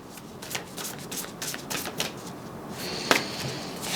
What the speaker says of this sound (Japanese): 最後にもう一枚オラクルカード引いてみましょ